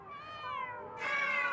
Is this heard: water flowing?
no